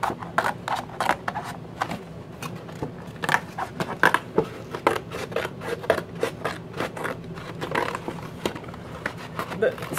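Scissors or a blade cutting up the center of a cardboard box, a steady run of quick crisp snips and scraping rasps at close range, with a voice talking over it.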